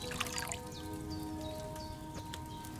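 Wine poured from a pitcher into a cauldron in the medieval game Kingdom Come: Deliverance, a steady liquid trickle with faint dripping splashes, running throughout over low background music.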